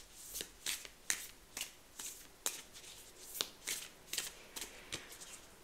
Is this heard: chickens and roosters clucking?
no